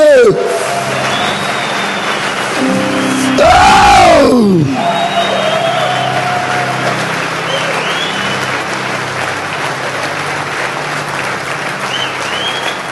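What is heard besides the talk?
church congregation applauding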